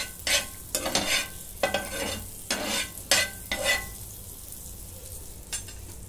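Pav bhaji frying in butter in a pan, stirred in repeated bursts of scraping and sizzling with short pauses between strokes, close up and fairly loud, no voices.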